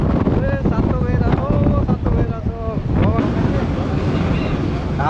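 Strong gusty wind at Manly Beach, Sydney, buffeting the microphone in a loud continuous roar with surf behind it, while a person talks over it.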